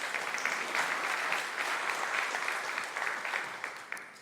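Conference audience applauding at a DevOpsDays tech event in Kansas City, a dense steady wash of many hands clapping that holds at an even level for several seconds.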